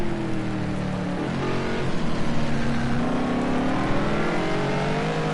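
GT race cars, a McLaren and a BMW M6, lapping Brands Hatch circuit on slick tyres, produce a steady, loud engine drone with shifting pitch as they pass, continuous throughout without voices.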